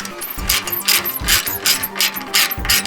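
Close, rhythmic ratchet clicking while a bolt is run down to fasten a plate on a WRX, in steady repeated strokes at roughly two per second.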